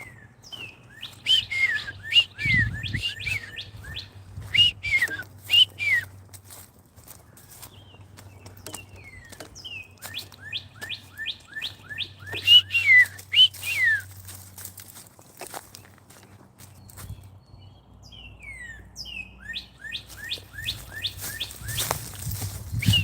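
Birds sing outdoors in repeated bursts of quick, bright chirps and trills, fairly close, separated by quiet gaps, with occasional low thumps and rustling footsteps underneath.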